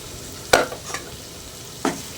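Goat kidney and liver pieces are stirred and fried in a pan with salt, turmeric and chili powder. Two or three close, sharp stirring scrapes rise over a soft, steady sizzle, with no voices.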